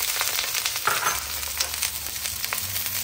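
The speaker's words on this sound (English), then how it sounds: "Into the wok, we're going to add the green onion," Green onion hits hot oil in a wok and sets off a loud, close, crackling sizzle that keeps going steadily for a few seconds, with a low clunk near the start.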